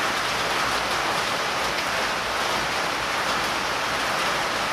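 Steady rain pours down, a dense even hiss of drops hitting surfaces with no pauses and no voices.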